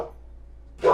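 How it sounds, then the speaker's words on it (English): Dogs break into a short, loud burst of barking near the end, after a stretch of quiet room tone. "And the dogs are going nuts."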